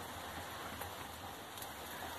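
Steady rain falling outdoors near a kitchen fire where pamonha is being cooked, a faint even hiss of drops with no talk.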